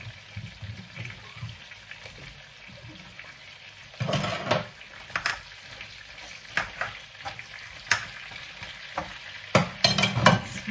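Bell pepper goes into a hot pan and is stir-fried with a low, even sizzle, broken by bursts of scraping and clattering from stirring that grow busier toward the end; there is no speech.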